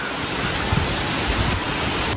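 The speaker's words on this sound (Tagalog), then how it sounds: "lakas ng hangin ngayon" Strong wind at a fishpond roaring in a continuous broadband rush, buffeting the microphone with low thumps, no voices.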